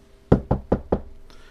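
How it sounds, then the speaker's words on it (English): Four firm knocks on an apartment front door, evenly spaced and close by, followed by a faint trailing room sound with no voices. "She hears a knock on her door."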